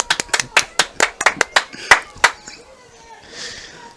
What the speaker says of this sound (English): let's give Josh Smith a round of applause